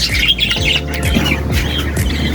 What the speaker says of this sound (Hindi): ओहो पीछे भी एक कौवे साहब आए हुए हैं मेरे